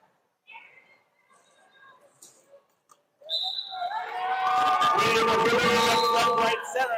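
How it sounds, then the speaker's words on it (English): A referee's whistle starts a jam during a roller derby bout, blowing a short, shrill blast amid crowd noise and talk. A loud burst of crowd cheering then swells and carries on to the end. "that'll be the whistle for Jam 10"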